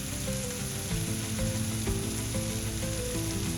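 Egg fried rice with soy sauce sizzling loudly as it is stir-fried in a hot pan, a steady dense crackle with occasional scraping of the stirring utensil.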